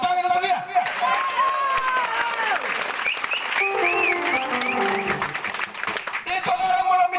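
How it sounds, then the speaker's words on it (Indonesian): Crowd applause at an outdoor political gathering, continuous clapping beneath a prominent voice and tonal sounds, lasting throughout. "Tepuk tangan untuk dia."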